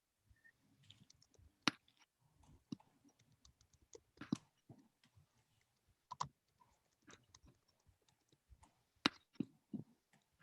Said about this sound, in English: I'm just typing up the last couple of minutes of conversation